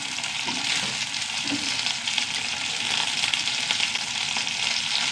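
Green chilies fry in a pan, giving a steady, close sizzling hiss with soft bubbling crackle that continues unbroken, with no one talking.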